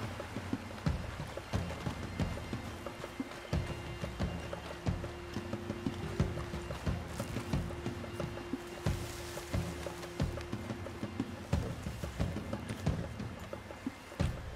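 Horse hooves in the Red Dead Redemption 2 video game clip-clop in a steady, brisk rhythm of sharp, fairly close hits against a low background.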